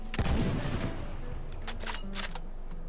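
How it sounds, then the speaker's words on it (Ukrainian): One heavy sniper rifle shot in a video game, a 14.5×114 mm magazine-fed rifle, followed by a few sharp, fainter mechanical clicks and clatters as the echo fades. "вона в нас не однозарядна, має магазин на 5 набоїв і також стріляє калібром 145 5 на 114"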